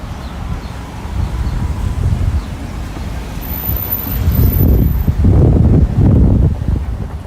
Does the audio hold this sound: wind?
yes